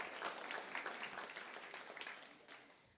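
Room of students at a union election results night breaking into applause, a dense, even patter of many hands clapping, quiet and somewhat distant, fading slightly at the end.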